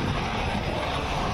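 Military aircraft at a joint army and air force drill, including Rafale fighter jets, a C-17 Globemaster and Chinook and Mi-17 helicopters, make a loud, steady broadband engine roar throughout, with no other sound standing out.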